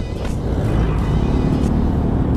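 A Honda Zoomer X scooter is ridden with a loud aftermarket exhaust pipe. It makes a steady, buzzing engine drone with broadband road and wind noise, close and continuous throughout.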